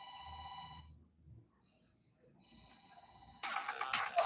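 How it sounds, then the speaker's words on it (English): A phone alarm set as a medication reminder rings in short repeating electronic bursts, fairly faint, followed by a sudden loud rush of noise near the end. "That's my alarm to take my medication."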